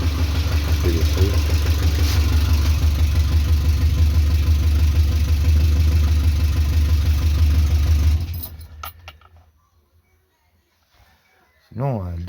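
A Talbot Horizon 1.1 car engine idles with a steady, close, low rumble and then shuts off. After a few seconds of near silence it fires up again briefly at the end, and talking is heard over the running engine.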